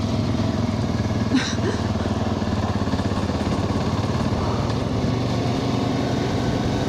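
Motorcycle riding on a trip around Lviv, with a steady engine drone and wind rush continuing at a constant level throughout, near and loud, with no break.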